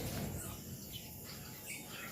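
Budgerigars chirp softly in a dark aviary at night, with faint scattered tweets over a quiet hum and possible insect buzz in the background.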